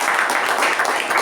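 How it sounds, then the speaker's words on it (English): A brief burst of steady group clapping at a club meeting, many hands applauding together for just over a second. "Let's give a round of applause to our Master"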